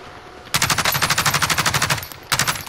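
Rapid automatic gunfire in the shooter Call of Duty Warzone: a loud, fast run of evenly spaced shots lasting about a second and a half, a brief pause, then another short burst, with no talk.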